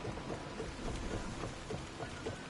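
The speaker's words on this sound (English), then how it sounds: "Look at that storm!" Stormy weather in Assassin's Creed Odyssey, a dense, steady hiss of rain over a low rumble that could be distant thunder, faint and unbroken throughout.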